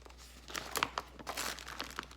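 A little plastic bag crinkles and rustles softly as it is handled up close, with irregular quiet crackles and brief louder crunches over a low background hum.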